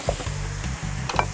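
Pork hits a preheated casserole pot and sizzles in short hissing bursts, close and moderately loud, with light clatter between.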